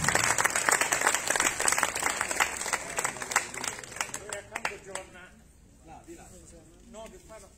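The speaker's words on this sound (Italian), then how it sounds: "Gasparino Agnello, a cui vi chiedo di fare un applauso." Audience applause fills a town hall room at an Italian book presentation, dense clapping that gradually thins out and fades to scattered claps near the end.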